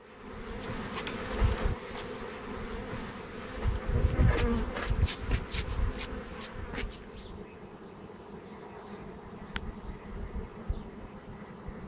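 Honeybees buzz in a dense, continuous swarm drone that swells and fades as individual insects pass close to the microphone, with no voices present.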